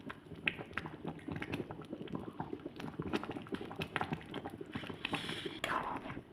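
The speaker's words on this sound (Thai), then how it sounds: "น้ำเดือดแล้วค่ะ" A pot of Thai fresh bamboo-shoot curry with mushrooms bubbles and pops steadily at a rolling boil, a dense, continuous crackle of small bursts heard up close.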